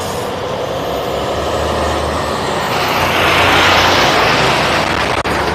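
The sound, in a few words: truck passing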